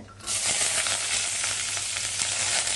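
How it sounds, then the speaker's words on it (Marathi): Cluster beans (gavar) tipped into hot oil in a pan, bursting into a loud, steady sizzle that holds at full strength throughout, with no talking. "तेल गरम झालंय. आपण गवार घालूया"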